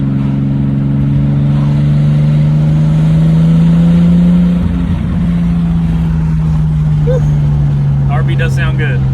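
JDM car with an RB engine and HKS exhaust, its steady low engine drone rising slightly in pitch mid-clip and easing back, loud and close, with a faint voice near the end.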